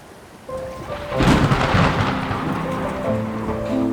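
A thunderstorm over the ocean in the Bahamas builds from steady rain into a loud, rolling thunder rumble that swells after the first second and keeps grumbling under persistent rainfall.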